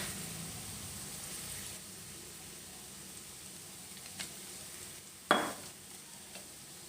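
Minced pork stir-fried with oyster sauce and fish sauce in a pan for holy basil pork, a steady close sizzle with soft scraping and one sharp clink of the utensil against the pan near the end.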